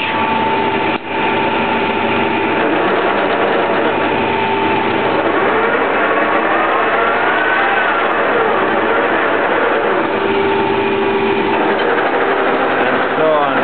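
A 1K62 lathe running steadily while lubricating its oil pump, a continuous mechanical hum with a faint whine and a brief knock near the start, with a person talking over it.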